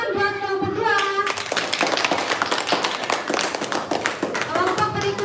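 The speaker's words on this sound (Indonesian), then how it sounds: "Jadi tepuk tangan buat kelompok 2." A classroom of primary school children claps for a group, a dense run of quick hand claps starting after a brief voice and fading as talk resumes at the end.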